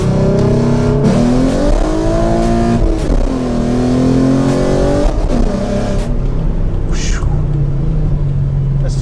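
A Ford Mustang's 3.7L V6 fitted with BBK long tube headers and an off-road X-pipe revs hard and loud close by, its exhaust note climbing and falling through several throttle blips before settling to a steady rumble.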